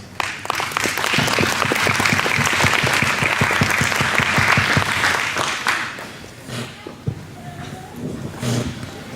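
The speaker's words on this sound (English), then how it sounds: "Let's give them a round of applause." An audience gives a long round of applause for the teams of a chili cooking competition at a school event, dense clapping that fades after several seconds, with a voice speaking afterward.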